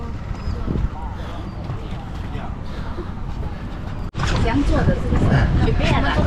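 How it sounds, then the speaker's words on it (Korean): Boat engine rumbling steadily on the water with splashing and wind on the way into Bako National Park near Kuching, Malaysia, people talking over it; the motor surges louder midway. "요 보트를 타고 이제 들어갑니다"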